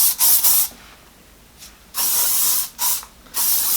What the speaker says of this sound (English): use a lot of hairspray